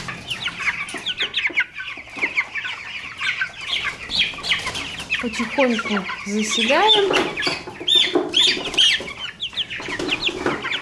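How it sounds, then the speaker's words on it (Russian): Chickens being carried in a basin to the poultry house cluck and squawk repeatedly up close, with busy, irregular calls, while a person speaks briefly. "Тем временем мама относит куриц в тазике."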